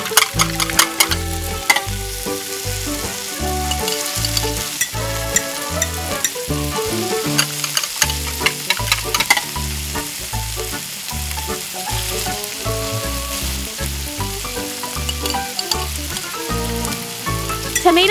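Cooking oil sizzling and frying loudly and up close in a miniature kitchen while a sweet and sour tomato octopus dish is prepared, with crackling bursts and repeated rhythmic stirring and scraping throughout, no voices.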